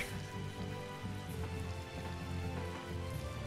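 Rain patters steadily and evenly in the Tales of Vesperia video game, a soft, dense wash of drops with low rumbling beneath and no speech.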